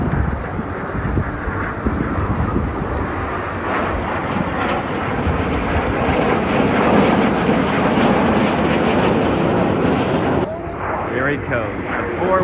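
Snowbirds aerobatic jets roar steadily overhead at the Gatineau-Ottawa airshow, a loud sustained engine wash with wind buffeting the microphone, while an announcer talks over it throughout.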